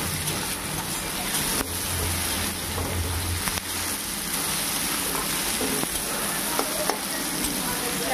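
Tomato tossed into onions frying in a pan for a jackfruit vegetable dish, a steady close sizzle and crackle running throughout with occasional stirring, no talking.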